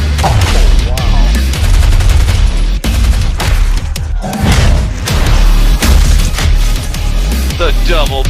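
Video game trailer combat with double-barrel shotgun blasts, loud booming shots and bursts of rapid gunfire layered over dense score and effects, with brief voices mixed in.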